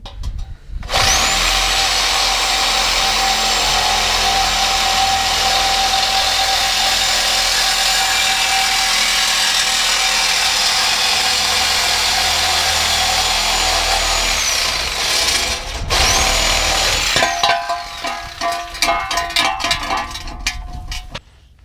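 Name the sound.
power tool cutting exhaust pipe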